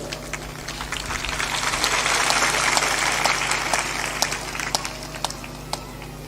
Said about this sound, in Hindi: ताली भी थोड़ा जोर से बजाया करो।